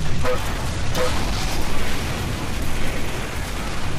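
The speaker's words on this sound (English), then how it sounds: "so many explosions and explosives, and I'm missing all of them." Explosions from Team Fortress 2 combat, dense rumbling booms and bursts layered continuously over a loud, noisy battle background with no clear pauses.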